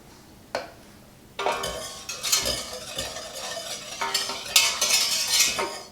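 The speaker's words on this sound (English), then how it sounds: "We're going to go ahead and stir." A spoon stirring Russian tea mix with whole cloves in a pot, scraping and clinking against the sides in irregular bursts, close and fairly loud after a quiet start.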